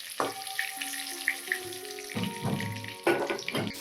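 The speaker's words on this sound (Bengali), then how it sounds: "এরকম ভাবে সমস্ত চিংড়িটাকে আমি ধীরে ধীরে ভেজে নেব" Whole shrimp frying slowly in a pan, soft sizzle with bursts of spattering and clinks, plus tonal ringing hums in the background, close and moderate in level.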